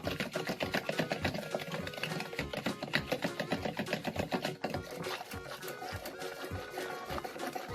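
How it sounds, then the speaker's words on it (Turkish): Cake batter of oil and milk is whisked rapidly, producing a fast, even train of wet clicking strokes that runs continuously without speech. "O yüzden güzel bir şekilde çırpmamız lazım."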